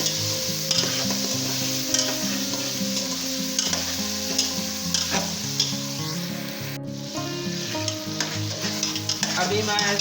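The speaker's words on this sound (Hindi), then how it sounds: "ये लहसुन मैंने बारीकी से काट के रखा, ये ऐड कर दूंगा और ये मैं हरी मिर्च भी ऐड कर दूंगा और इसको मिक्स कर लेंगे" Chopped garlic and green chilies fry and get stirred in a pan for a mutton and potato curry, with a steady close sizzle and repeated scraping strokes throughout and loud background music over it.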